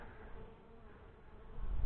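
Honey bees at a hive hum in a steady, close drone during an August inspection as liquid is slowly poured in, the buzzing swelling louder toward the end with no talk.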